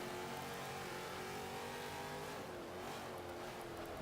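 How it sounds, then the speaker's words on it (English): A Holden race car engine in Forza 5 revs high and steadily, a loud sustained whine that shifts slightly in pitch as it holds the RPM up. "I'm downshifting to get the RPM going"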